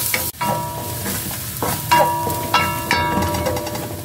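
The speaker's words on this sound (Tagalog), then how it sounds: "Isa natin to hanggang mag-brown-brown lang siya ng kaunti." Chopped garlic sautéing in a pan as the base for papaitan, a beef innards dish, with steady close sizzling broken by a few clattering stirs of a utensil against the pan.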